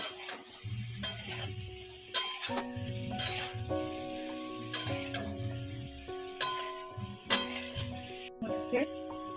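Potatoes sizzle in a hot pan as they are stirred and turned, with scraping and clinking of the utensil against the pan, during preparation of a tilapia fish curry, under quiet background music.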